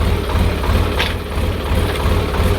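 A tractor engine idles steadily with a low, continuous rumble and vibration, loud and close, with a brief hiss around the one-second mark and no talking.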